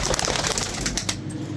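Rampuri pigeons kept on a rooftop give a low, steady coo amid a dense, noisy outdoor wash, close and fairly loud for a short stretch.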